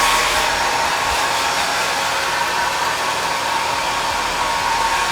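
A hair blow dryer set to high heat roars steadily and loudly at close range, an unbroken airy hiss with no talking.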